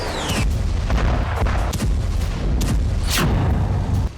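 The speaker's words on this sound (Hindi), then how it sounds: "लेबनान में धमाके होते रहे," War footage of explosions from airstrikes in Lebanon: a continuous loud roar of rumbling blasts, broken by several sharp booms and cracks, with no talking.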